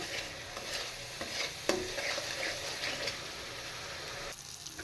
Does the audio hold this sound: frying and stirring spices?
yes